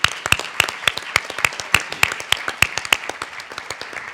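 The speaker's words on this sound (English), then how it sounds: "One big round of applause for them." A small group at a general assembly in Tallinn claps in a fast, regular rhythm. Sharp, close hand claps come several times a second, loud and crisp at first, then thin out slightly near the end.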